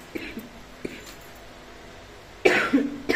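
A person suffering from fever and a sore throat coughs close by, a couple of harsh bursts near the end following a few quiet, faint sounds.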